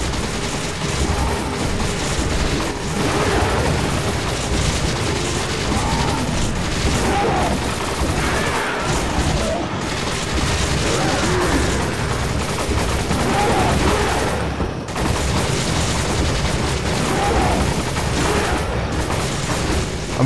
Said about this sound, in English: I'm shooting the other guys real quick.